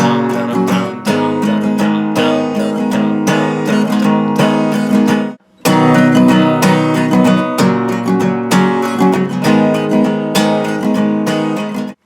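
Acoustic guitar strums chords from a song in a steady down-down-up-down pattern, loud and close, with a brief break midway before the strumming resumes.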